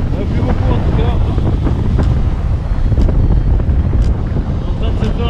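A strong headwind roars past during a paragliding flight across the Pyrenees, buffeting the microphone with a loud, continuous rushing that never lets up.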